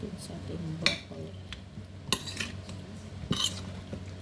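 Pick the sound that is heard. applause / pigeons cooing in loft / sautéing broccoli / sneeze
sautéing broccoli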